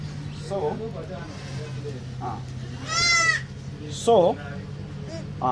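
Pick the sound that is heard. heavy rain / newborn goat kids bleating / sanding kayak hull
newborn goat kids bleating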